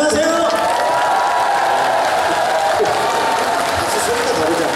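An audience claps at the opening celebration performance of the 2016 Muan Lotus Festival. The dense, continuous applause is steady and fairly close, with voices talking over it.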